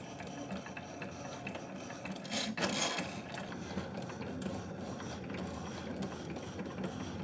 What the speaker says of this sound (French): Vous pouvez maintenant lancer votre découpe.